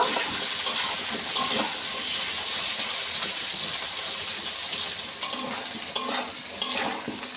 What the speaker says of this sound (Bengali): কচুটা বেশ ভালো করে একটু ভেজে নেব